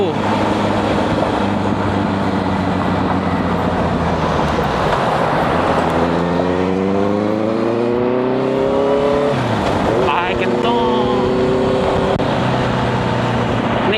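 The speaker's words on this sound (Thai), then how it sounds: "แค่พยายามหาจังหวะเร่งเครื่องให้เครื่องยนต์มันได้ทำงานบ้างนะ" A Honda CB650F motorcycle's engine revs while riding through town, with rising and falling harmonic tones under steady wind and road noise, loud and close throughout.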